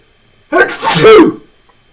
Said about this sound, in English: Uh-oh, I got a sneeze coming.